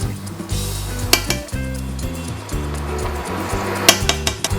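Butter sizzles in a pan while honey garlic shrimp cooks, a steady frying hiss broken by clinks of a utensil against the pan and a few sharp taps.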